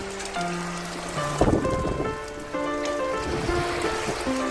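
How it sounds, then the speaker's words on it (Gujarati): Heavy rain pours steadily around a house, a dense and constant hiss, with sustained tones running over it and a brief louder burst of clatter partway through. "સરસ મજાનો વરસાદ પડે છે મિત્રો જોઈ શકો છો"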